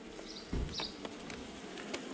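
Honey bees buzz faintly on a comb during queen marking, a soft, steady insect hum with a few brief louder thumps and handling noises close by.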